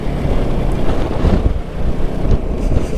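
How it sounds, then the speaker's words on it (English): Strong wind buffets the microphone on a Vespa GTS 300 ride, a loud, gusty, low roar that swells and dips throughout with no voices. "It's actually very windy now."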